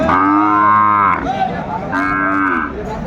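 Loud, close mooing from Sahiwal cattle at a cattle market, two long drawn-out calls separated by a brief pause.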